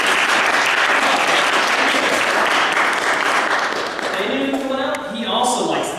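A crowd at a youth demonstration bursts into dense, steady applause that fills the room, and voices begin talking over it as the clapping thins toward the end.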